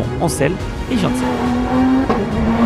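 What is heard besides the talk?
race cars starting a race, Ledenon circuit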